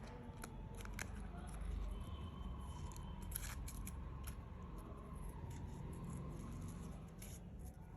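Scissors snip through paper to cut out homemade stickers, a series of quick, close, quiet cuts spread over several seconds, with faint talking in the background.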